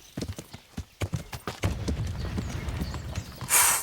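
Hooves of a horse in the video game Kingdom Come: Deliverance clop in a steady trotting rhythm, close and distinct, with a brief burst of hiss near the end and no talking.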